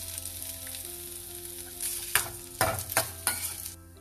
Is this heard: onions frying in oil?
yes